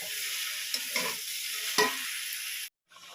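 Shrimp sizzle and fry as they are stirred into a jackfruit curry in a pan, a steady hiss with a few scraping stirs before a brief cut-off.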